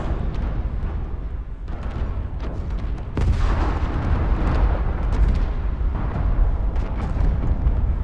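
Artillery strikes land in the MechWarrior Online battle game, a loud stretch of heavy booming blasts and rumbling impacts layered over continuous gunfire and mech combat noise.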